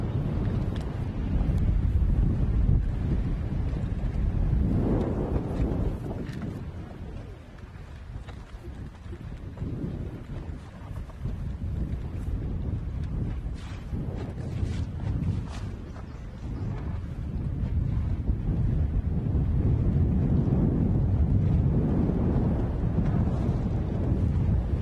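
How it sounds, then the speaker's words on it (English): Wind gusting across an open lake during a bass fishing tournament on the Chowan River at Edenton, North Carolina, a loud, steady rumbling roar of wind buffeting the microphone that swells and eases over about twenty-five seconds, with no voices. "That wind's getting it too."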